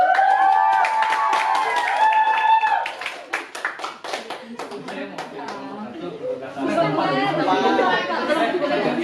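A university class gives a student group a round of clapping. Sparse, irregular claps come in the middle stretch amid chatter, with a voice speaking before and after.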